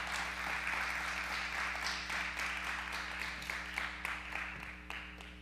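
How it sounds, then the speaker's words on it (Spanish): Scattered clapping from a church congregation, steady and moderately loud over a low background hum, with individual claps standing out. "Denle un aplauso al Señor."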